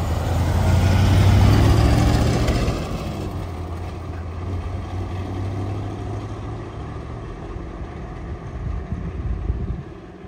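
A 1970 Chevrolet Corvette L46 convertible with a 4-speed manual and an aftermarket-style cam, its engine rumbling loudly at first, then settling into a steady, lumpy idle close by with no talk.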